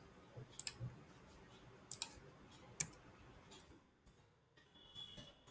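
Three sharp, quiet mouse clicks come at uneven intervals while a checkbox is ticked in Salesforce software, with faint room noise between them.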